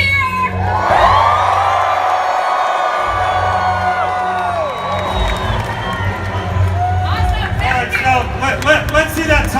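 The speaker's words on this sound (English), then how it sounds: "1, 2, 3, everybody cheer!" Large Comic-Con convention hall audience in San Diego bursting into loud cheering, whoops and shouts that swell and stay sustained, a dense roaring crowd with scattered high-pitched yells rising near the end.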